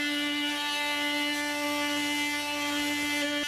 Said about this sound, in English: The sanding pad allows for quick removal of stain or paint on wood.